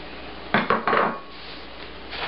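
Spinach is tipped into a pan of vegetable mixture for curried lentils, giving a few close clatters and knocks of utensil against pan in quick succession, then a soft rustle.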